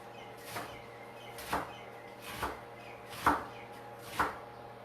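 A knife chops through rolled-up greens on a cutting board in five distinct, evenly spaced strokes, each a crisp close thud, with a quiet kitchen between them.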